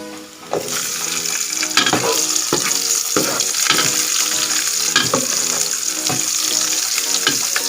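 Onions fry in a hot pan for a dinuguan with cassava dish, a steady loud sizzle with repeated stirring scrapes and clacks on top, close and continuous with no voices.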